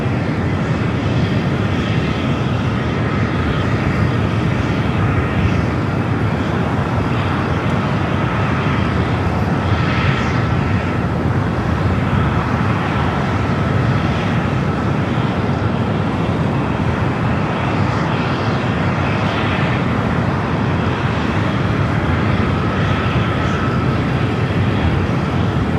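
A fixed-wing airplane roars on runway 25 Left on the south side of Los Angeles International Airport, a loud, continuous engine drone that holds steady throughout, with faint traffic noise in the background.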